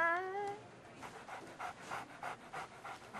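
Small dogs pant rapidly in short rhythmic breaths while pushing their way into a shop, close and soft, after a brief whine at the start.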